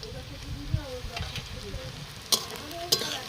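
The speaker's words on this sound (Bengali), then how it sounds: "মশলাটা ভালোভাবে কষিয়ে নেব।" Garlic and ginger-green chili paste sizzling and frying in a pan with onions for a Bengali leta fish curry, a steady crackle broken by a few sharp stirring scrapes and clinks near the end.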